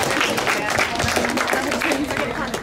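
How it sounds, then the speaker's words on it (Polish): Audience applause during a student council candidates' debate in a school setting, a busy wash of clapping that is fairly loud and continuous, with some voices and crowd noise mixed in. "Myślę, że wielkie brawa."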